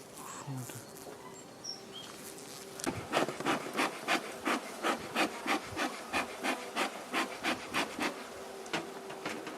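A dense, steady insect buzz with rapid rhythmic scraping pulses, poisoned honeybees curled up and fluttering their wings against a surface as they die, close and moderately loud.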